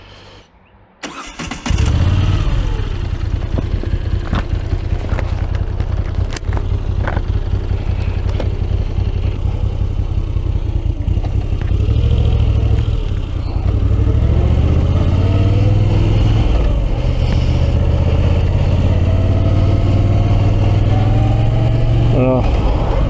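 A motorcycle engine starts close by, then runs continuously and steadily as the bike climbs a winding mountain road to the Plateau des Glières, with a rider talking over the engine.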